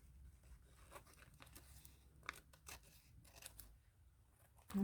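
Quiet snips and slides of scissors cutting paper for spring journal page decoration, a run of soft, irregular cuts close by with a small rustle at the end.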